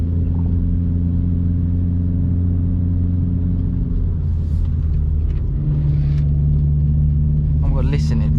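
A Vauxhall Corsa's engine drones loudly as it climbs a hill, a steady low rumble that shifts pitch partway through as the car labours, with a brief burst of talking near the end.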